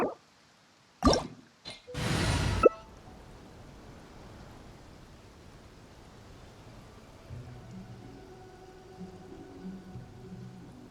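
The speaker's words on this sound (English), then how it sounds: "Oh, I don't like the rain." Light rain in a video game begins as soft, steady patter with scattered drips, quiet and continuous after a few brief loud bursts of game sound at the start.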